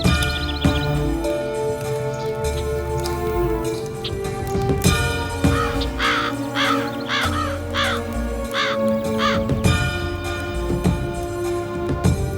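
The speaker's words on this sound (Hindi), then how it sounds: "कौवा कौवा कौवा कौवा कौवा कौवा कौवा कौवा कौवा कौवा कौवा कौवा।" Several crows caw repeatedly in a steady series of harsh calls over a busy, continuous background bed, standing out in the middle of the scene with no speech over them.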